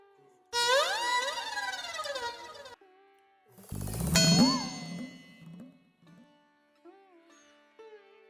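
A telephone rings after a number is dialed, giving bright warbling electronic tones in two loud bursts, followed by softer short beeps and chimes.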